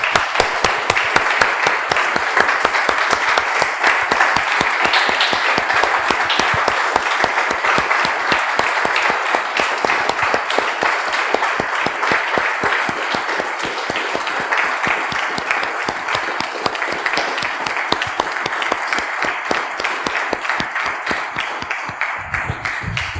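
A church congregation applauds steadily for a long stretch, dense and even clapping filling the room at a constant loudness, with only faint voices underneath.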